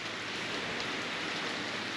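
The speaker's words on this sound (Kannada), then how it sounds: "ಹಂಗೆ ಮಳೆ ಬರುತ್ತೆ, ಹಂಗೆ ನಿಂತೋಗುತ್ತೆ" Steady rain falling outside a city balcony, a dense even hiss with no breaks and no voices.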